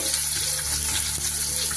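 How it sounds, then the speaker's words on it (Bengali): Pieces of bhola fish sizzle steadily in hot oil in a kadai, a loud, continuous frying hiss with small crackles throughout and no voices. "মাছগুলোকে আমি কিন্তু ভালো করে উল্টে পাল্টে ভেজে নিচ্ছি"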